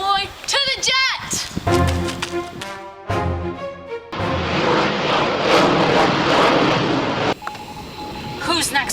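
A cartoon jet aircraft takes off and flies, heard as a loud, sustained roaring whoosh after a string of bright beeping tones and playful musical effects, with voices speaking over parts of it.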